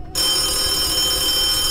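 Continuous electronic telephone ring in the Vietnamese horror video game Thần Trùng, steady and loud, with a sustained tonal buzz that runs without pause after a brief silent start.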